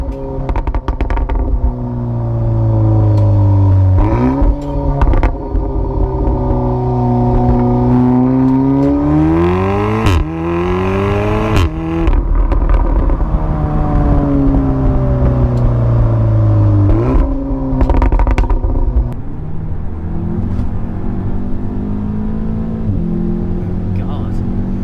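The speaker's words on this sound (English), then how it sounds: "That was a fourth gear pull." Audi S3 8V tuned to about 370 bhp pulling hard through fourth gear, a loud continuous engine drone rising steadily in pitch with a brief gear-change dip, heard from inside the car with people talking over it.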